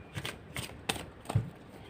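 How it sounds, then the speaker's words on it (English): Tarot card deck shuffled by hand, a few soft papery riffling bursts in an uneven rhythm, close and quiet with no talking. "how I would shuffle it is that I would do this"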